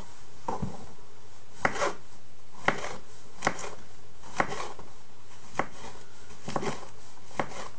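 Knife slicing mushrooms on a chopping board, a series of about nine crisp, evenly spaced cuts with sharp thuds against the board, close and alone in a quiet kitchen.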